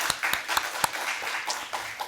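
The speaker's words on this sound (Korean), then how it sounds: "교회 박수 한번 치세요." A church congregation at a Friday prayer meeting claps briefly, a short burst of scattered hand claps with a few sharper accents, moderately close and not very loud.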